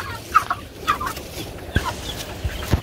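Chickens in Jamaica give short, repeated clucks and squawks at close range, scattered irregularly against a low outdoor background with no talking.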